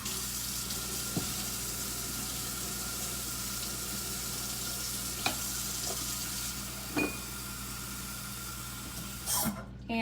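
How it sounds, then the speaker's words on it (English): Steady warm water hisses from a tap throughout, fairly quiet and even, with a few soft clinks and taps near the end. "So I'm gonna turn my water back on."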